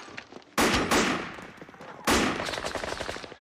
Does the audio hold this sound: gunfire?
yes